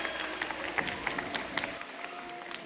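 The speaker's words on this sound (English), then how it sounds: "Let's give him a huge round of applause." Audience applause on a college campus, scattered claps and cheering heard fairly faint and steady over a crowd murmur, with some voices mixed in.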